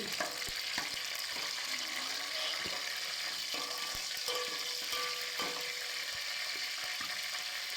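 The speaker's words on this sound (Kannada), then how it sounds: "ಎಣ್ಣೆ ಸಾಸಿವೆ ಕರಿಬೇವು ಹಾಕಿ ಸಿಡಿಯೋಕ್ಕೆ ಮಡಗಿದ್ದೀನಿ" Mustard seeds and curry leaves crackling in hot oil for a village bassaru tempering: sharp scattered pops and snaps over a continuous close sizzle.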